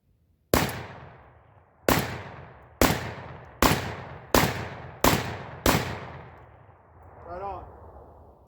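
Seven loud, close blasts from a Panzer EG200 shotgun firing buckshot, spaced about a second apart with short echoing decays, followed by a fainter softer sound at the end.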